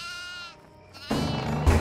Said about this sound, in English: Oh, no. Goats.